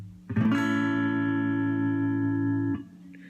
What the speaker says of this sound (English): just a regular, natural 6-string reference bar chord